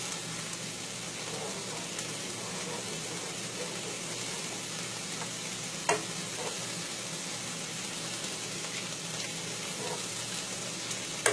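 Soup with tomato paste being stirred in a pot, a steady soft sizzling, bubbling wash with faint scraping and a brief clink near the middle, continuous and close with no talk.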